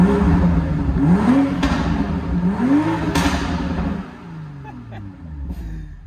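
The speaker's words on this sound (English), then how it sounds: "Let's give it some revs here." A stock car's engine revs up and down twice in rising, falling sweeps, loud and close, then settles into a lower idle with faint pops and crackles near the end.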